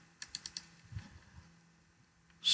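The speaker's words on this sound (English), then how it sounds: "and I will double click" Computer mouse clicks in quick succession, four sharp close taps followed by quiet, then a louder click burst at the end.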